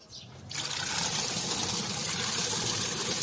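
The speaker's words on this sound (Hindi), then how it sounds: "अभी मैंने वॉशिंग मशीन में पानी डाल दिया है ताकि आप लोगों को दिखा सकूं" A washing machine converted to run on 12V DC churns a load of water, a steady loud rushing and sloshing that starts after a brief quiet moment and continues without pause.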